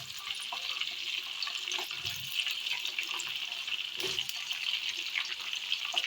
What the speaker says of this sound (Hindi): ये हमारा गर्म हो चुका है, अब हम इसमें बैंगनों को शामिल करते हैं।